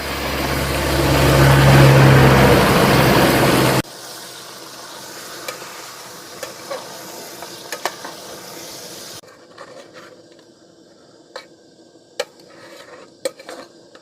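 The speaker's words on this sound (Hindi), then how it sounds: "अभी हम प्याज, मिर्चा, आदि, लहसुन ये सबको भूंज रहे हैं।" Onion, chili, ginger, garlic and mutton frying together in oil: a loud sizzling stir for a few seconds, then quieter frying broken by sharp clinks and scrapes of a utensil against the pot.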